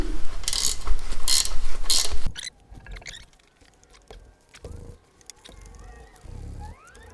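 Wrench work on the cam tensioner bolts of a 2006 Harley-Davidson Ultra Classic: a loud run of ratcheting clicks up close, then quieter scattered metallic ticks and clinks.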